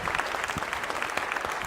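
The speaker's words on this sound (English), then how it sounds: "Let's give Reagan a round of applause." A congregation at a church celebration applauds a young woman named Reagan, brief dense clapping from many hands, even and fairly soft throughout.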